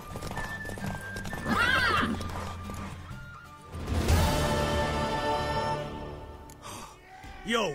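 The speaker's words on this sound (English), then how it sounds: "I'm finishing the stamina of the poor horse" A horse in The Witcher 3 gallops with rapid hoofbeats, then lets out loud neighs and a whinny midway, followed by a crash and breathy snorts as the game audio plays without any talk.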